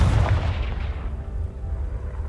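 A Confringo spell detonates in Hogwarts Legacy, a heavy booming explosion up close with a deep low rumble that trails off over about two seconds.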